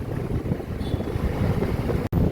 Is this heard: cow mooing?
no